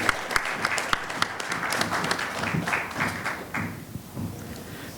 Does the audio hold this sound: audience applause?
yes